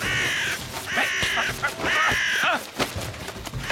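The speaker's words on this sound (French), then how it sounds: "Corbeau!" A crow caws loudly and harshly several times in a row in an animated cartoon, close by, with short gaps between the rough calls.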